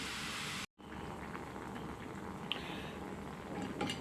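Rice flour chegodilu deep-frying in hot oil, a steady dense crackle and bubbling hiss close up, broken by one brief dropout near the start, with no talking.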